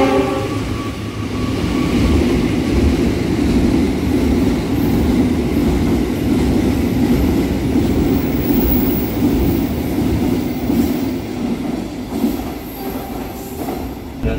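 Gumarang passenger train pulling into Pekalongan station: a loud, steady rumble of rolling railcars and wheels on track, with squealing wheel tones and faint clickety-clack throughout, no voices.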